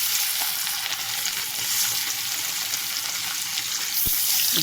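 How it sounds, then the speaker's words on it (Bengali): Large fish pieces fry in hot oil with a dense, continuous close-up sizzle and occasional light crackles, and one brief knock near the end. "তেলটা গরম হয়ে যাচ্ছে, আমি মাছটা ছাড়বো"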